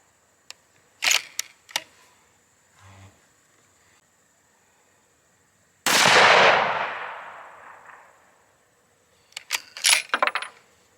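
A single loud 22 Creedmoor rifle shot is fired at a paper target outdoors, a sharp crack with a long decaying tail, framed by nearby clicks and metallic handling sounds before and after, with no talking.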